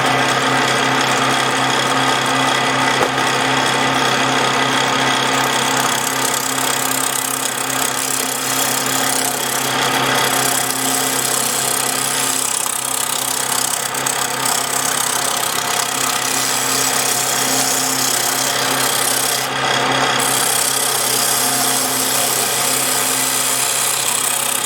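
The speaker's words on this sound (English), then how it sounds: "we're going to start making this piece of wood round" A wood lathe spins a very dry block of wood while it is rough-turned round for a vase, giving a loud, steady motor drone with grinding, chattering cutting noise that runs without a break.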